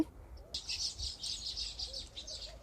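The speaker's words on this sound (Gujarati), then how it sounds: "તો એમાં જો બેસેલા ચકલા એક પક્ષી ઉડે ઘણા બધા પક્ષી છે." Sparrows chirp in quick, continuous high twittering around their nests, fairly close and steady after a brief quiet start.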